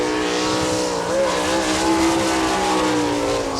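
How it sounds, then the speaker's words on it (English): A sprint car engine drones steadily at high revs close by on a qualifying lap at Attica, Ohio, in 1998, its pitch rising and falling slightly as it holds speed. "Scott Miller is your next qualifier in car number 5M from Clyde."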